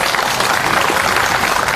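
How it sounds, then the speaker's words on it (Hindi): An audience at a booth presidents' convention in the Mohanlalganj Lok Sabha constituency breaks into dense, steady applause. Many hands clap together in a loud, continuous wash of sound that fills the hall. "ताली बजाओ।"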